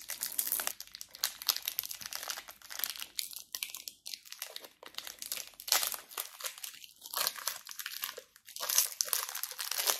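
A Kit Kat bar being unwrapped, with close, loud crinkling of the wrapper in bursts followed by crunchy bites and chewing, and no talking.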